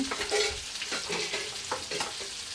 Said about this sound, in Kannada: ಫ್ರೈ ಮಾಡ್ಕೊಂಡು ಈಗ ಆಲೂಗಡ್ಡೆ ಹಾಕ್ಕೊಳ್ಳೋಣ